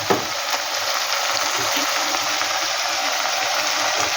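Tomato paste from two tomatoes hits hot oil in a pan and sizzles in a dense, steady hiss that holds at the same level throughout, with no talking.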